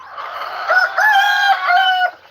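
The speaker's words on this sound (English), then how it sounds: "In general, I just let the chickens do whatever they're gonna do." A rooster crows loudly and close, a long drawn-out call with clucking chickens around it on a farm in Aklan.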